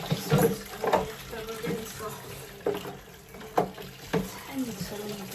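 Tap water running into a baby's bathtub during a first bath, a steady hissing wash broken by several sharp splashes and knocks, with faint voices murmuring underneath.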